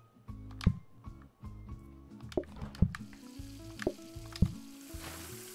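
Steak frying on a grill in the PlateUp video game kitchen, a steady sizzle running under looping background music with several sharp clicks and pops scattered throughout.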